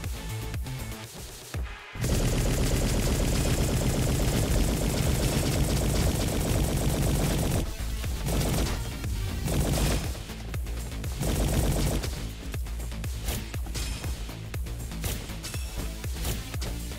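Rapid gunfire in the fast-paced FPS game Roboquest, loud sustained bursts of automatic shooting with short breaks between volleys, mixed with game effects.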